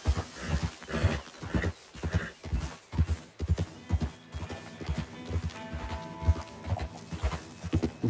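A horse gallops in Red Dead Redemption 2, its hooves clip-clopping in a loud, steady rhythmic beat for several seconds, with a brief neigh.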